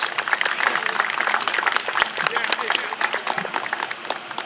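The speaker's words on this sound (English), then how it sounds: "So give this man a round of applause." A crowd at an orphan car show in Ypsilanti, Michigan applauds a Kaiser Frazer car owner honored as best in class, a busy sustained clatter of many hands close by, with talk mixed underneath.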